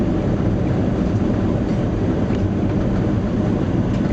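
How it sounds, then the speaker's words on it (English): Airliner jet engines roaring in full reverse thrust just after touchdown on the runway at Ho Chi Minh airport, a loud, steady broadband rumble heard from inside the cabin with no break. "Engines engaged in full reverse thrust."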